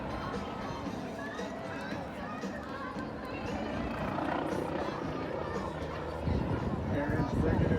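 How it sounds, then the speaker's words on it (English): A Red Bull helicopter flies overhead at an air show in Ventura County, its loud, steady rotor and engine roar filling the scene and growing louder toward the end while a crowd murmurs beneath. "The Red Bull helicopter."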